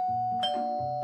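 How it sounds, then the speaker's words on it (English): Video game doorbell chime in a dating sim, a short bright electronic ding-dong with a sustained ringing tone lasting about a second, loud and clear with no voices. "Suddenly, my doorbell chime rings"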